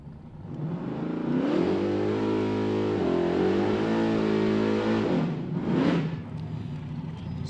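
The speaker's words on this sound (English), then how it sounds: "So Randy Bellahar with a fresh bottle in the Pontiac-powered 1968 Firebird" A Pontiac-powered 1968 Firebird drag race car accelerates hard at Sick Week, a loud, sustained engine roar that climbs through gears, then a brief rising burst before tapering off.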